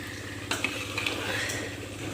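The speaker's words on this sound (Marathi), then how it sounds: "इकडे भजे गरम गरम भजे सुरू आहे भजे चालू आहे" Bhaje fritters fry in hot oil during festive Sankranti cooking, a soft continuous sizzle with a few light clinks of utensils near the start.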